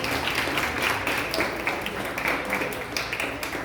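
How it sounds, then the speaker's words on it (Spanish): Audience applause at a book fair inauguration at an arts school, a steady patter of clapping hands from a crowd that fills the whole span without a break. "les pido un aplauso"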